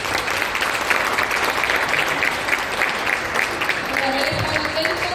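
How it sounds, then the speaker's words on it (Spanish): Steady audience applause for teachers at a talk on disaster risk management, a dense continuous roll of clapping at even strength throughout, with a faint voice starting near the end. "un aplauso para ustedes"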